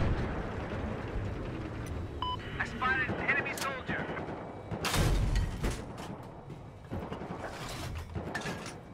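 Gunfire in the video game Battlefield, loud sharp shots and booming blasts over a constant rumble of battle noise, with a player's voice talking over it.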